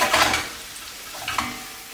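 Butter melting in a pan for a frittata sizzles softly while a utensil stirs it, with two short scraping bursts of stirring over a quiet background hiss.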